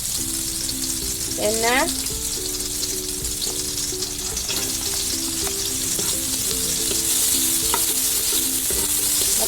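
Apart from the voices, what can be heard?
garlic and onion frying in a pan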